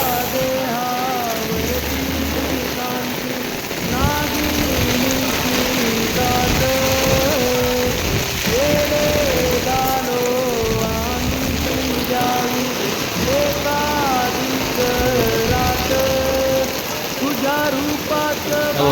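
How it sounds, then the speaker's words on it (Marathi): Steady rain pours down, a dense hiss that continues without a break, while a melodic voice sings over it. "पाऊस"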